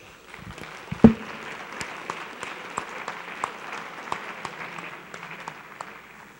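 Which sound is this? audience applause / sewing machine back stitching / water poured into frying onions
audience applause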